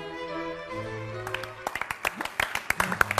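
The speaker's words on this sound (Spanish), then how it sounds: "Este aplauso para Milei" A studio audience applauds Milei on a city television program. A sustained musical tone comes first, then scattered, irregular claps break out and continue to the end.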